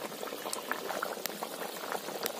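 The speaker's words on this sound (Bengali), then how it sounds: "এবার জল দিয়ে দেবো। এবার খানিকক্ষণ ফুটতে দেবো," Curry simmering with added water in a pot, bubbling steadily with small pops and gurgles close by, no talk over it.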